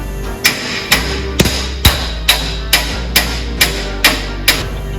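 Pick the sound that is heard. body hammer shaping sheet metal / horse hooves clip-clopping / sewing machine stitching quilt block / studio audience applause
body hammer shaping sheet metal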